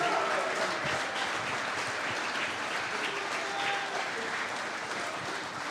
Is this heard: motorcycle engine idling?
no